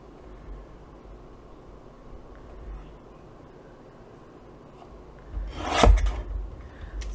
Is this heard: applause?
no